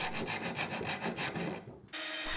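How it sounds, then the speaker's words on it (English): A hand rasp files a drilled wooden wine holder handle into its final shape, a close, steady rhythm of rough scraping strokes that stops briefly before a final harsh burst. "I then use a rasp and a bit of elbow grease to get the final shape."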